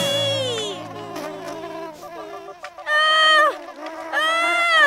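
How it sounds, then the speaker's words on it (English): A cartoon bee gives off a high, whiny buzz that waxes and wanes in bursts under and between frantic talking from a character. "There's a bee who's trying to sting me!"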